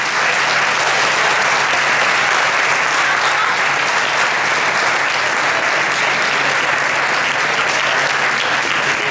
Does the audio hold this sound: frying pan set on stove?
no